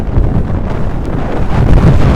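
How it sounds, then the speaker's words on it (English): Strong wind on a high viewpoint along the Arizona Trail buffets the microphone in steady, heavy gusts, a loud continuous low rumble with no voices. "is extremely windy up here"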